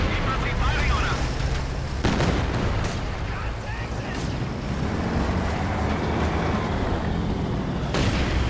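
Friendly artillery fire and explosions in a real-time strategy battle, a continuous rumbling barrage with sharp blasts and booms layered over steady low roar, with some talk over it.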